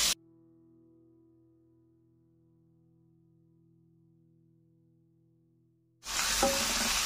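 Tomato and onion sautéing in a pan for kadai paneer: a short burst of sizzling at the very start and again near the end, separated by several seconds of quiet, steady low hum.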